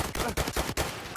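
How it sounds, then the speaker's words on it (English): Rapid video game gunfire crackles in a close firefight, dense bursts of automatic shots broken by short gaps, loud and continuous throughout. "Guy on the left shooting me."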